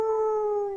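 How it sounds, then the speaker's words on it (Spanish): A dog howls in a single long, steady, tonal note from fairly close, sliding slightly downward at the end. "No sé si alcancen a escuchar los perros"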